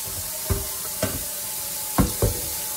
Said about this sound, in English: As y'all can hear the sizzling going on